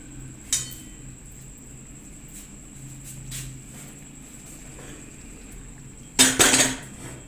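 Metal pan and utensils clatter as a pan goes onto the stove while a tempering for dhaba-style chana dal fry is started, with a faint clink early, a soft knock midway and a loud burst of clanking near the end.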